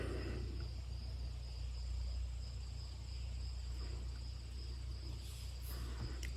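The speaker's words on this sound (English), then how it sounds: "You hear the occasional crickets, frogs, birds." Crickets chirp outdoors among trees in a steady, continuous high trill, fairly faint, over a low ambient hum with no voices.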